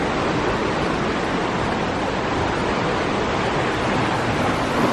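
A large river rushes at the Petanu River near Ubud, Bali, a dense, loud, unbroken roar of water that stays steady with no voices.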